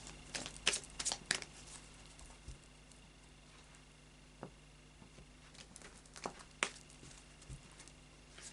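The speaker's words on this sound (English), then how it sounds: "So we'll do a final shuffle of the Tarot of Dreams." Quiet tarot card shuffling with a few quick bursts of riffling and soft tapping, separated by stretches of faint background hiss.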